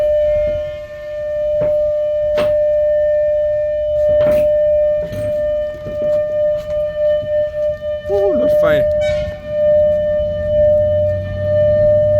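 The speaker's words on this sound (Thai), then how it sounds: "สัญญาณเตือนนะครับ" A steady electronic warning tone rings continuously at a level crossing, with a few brief clatters and voices under it.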